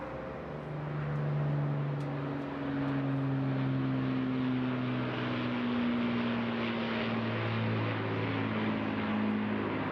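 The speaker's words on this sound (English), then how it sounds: "Lovely to hear all those Merlins." A WWII bomber's multiple Rolls-Royce Merlin piston engines drone overhead at an air show, their deep, beating tones shifting slowly in pitch as the aircraft passes, loud and continuous with no talk.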